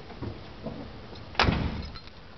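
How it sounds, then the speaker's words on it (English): A car trunk lid is handled with a few soft clunks and a sharper thud as it shuts, close and fairly quiet. "And the trunk opens and closes nice."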